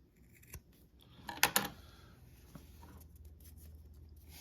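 Scissors snip material for a homemade diaphragm turkey call, giving a few sharp close cuts with a quick double snip in the middle over a quiet background.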